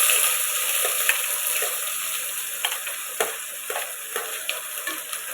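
Vegetables for a meatless biryani fry in a pan with a steady sizzle, punctuated by repeated clicks and scrapes of a spoon stirring them, close and without any talking.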